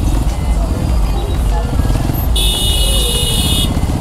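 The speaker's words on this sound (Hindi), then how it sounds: "अब ये देखो ये ट्रैक्टर वाला जो है उल्टा आ रहा है" A tractor rumbles along a rough, potholed village road in Uttar Pradesh near Delhi, driving against traffic. A steady loud engine drone mixes with other road vehicles, and a high horn-like tone sounds briefly midway.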